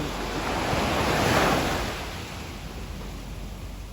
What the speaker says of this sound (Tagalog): dito ang alon sa ano, baybayin. Sa dalampasigan.